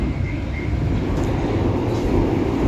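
Inside the restaurant car of the Blambangan Express train running between Banyuwangi and Jakarta, a continuous low rumble of rolling wheels and carriage noise fills the space at a steady level, with no voices.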